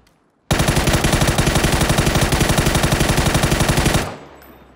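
Sustained automatic gunfire in the battle royale game PUBG, a loud rapid burst of evenly spaced shots lasting about three and a half seconds, starting abruptly after a moment of quiet and cutting off sharply, with no voices over it.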